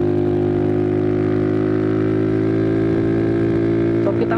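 A car climbs a wet, winding mountain road in light drizzle, its engine droning in a steady, loud hum from inside the cabin, with a few faint rattles near the end.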